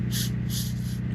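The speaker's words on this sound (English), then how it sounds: "I always take the spray foam release and dose this very well." Foam release agent sprayed into a mold chamber in two short hissing bursts, close and distinct, over a steady low hum.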